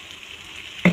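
Noodles with soy sauce fry in a pan with a steady faint sizzle, ending in a brief louder scrape of stirring.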